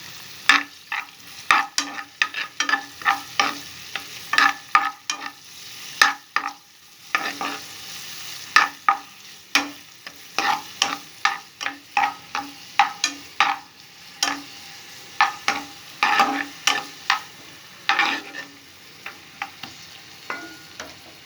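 Capsicum being stir-fried in a pan for chicken noodles, a run of sharp spatula scrapes and tosses in an uneven rhythm over a soft sizzle, close and with no talking.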